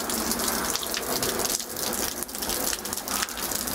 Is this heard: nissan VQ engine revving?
no